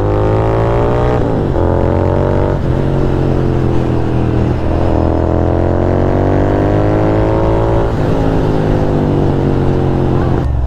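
Royal Enfield GT650 motorcycle engine during a ride, a loud close thrumming exhaust note rising in pitch through repeated gear changes with brief dips between them.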